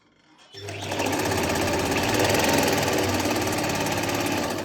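A sewing machine runs steadily for a few seconds stitching the crotch seam of palazzo pants, starting abruptly after a brief quiet moment and holding a loud, even mechanical whir close by.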